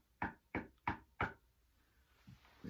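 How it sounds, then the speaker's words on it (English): Four evenly spaced knocks on a door, close and distinct, followed by quieter faint rustling. "went to the first house and knocked on the door"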